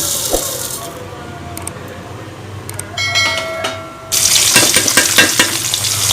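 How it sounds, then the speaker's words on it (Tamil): Mustard seeds and urad dal fry in hot oil for coriander rice, giving a loud, continuous sizzle with crackling pops and metallic stirring clinks. The frying surges louder and brighter partway through. "கடுகு, உளுத்தம்பருப்பு சேர்த்துக்கோங்க"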